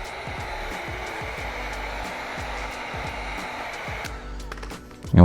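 A heat gun blows hot air onto tint film being fitted to a 2014–2025 Dodge Durango headlight, a steady loud blowing hiss close by with faint ticking underneath and a clunk at the end.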